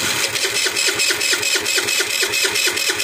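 Small engine of an abandoned scooter, long unused, running after being fired up: a fast, steady chugging idle with an even pulsing rhythm, close and loud, with no one talking.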